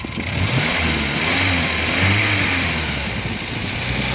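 A car engine revved lightly under gentle throttle while being checked for a leak, rising and falling in a steady mid-pitched drone close to the listener.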